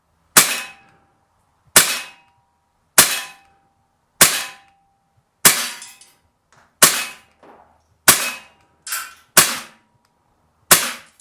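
Ten sharp cracks from a KWC 24/7 blowback CO2 BB pistol fired outdoors, spaced about a second apart, loud and close, each with a short metallic ring as the slide cycles.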